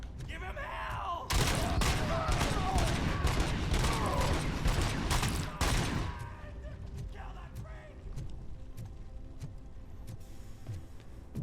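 Rapid automatic gunfire in the video game RoboCop Rogue City, a dense burst of shots lasting several seconds before dropping to quieter mechanical game sounds with scattered single shots.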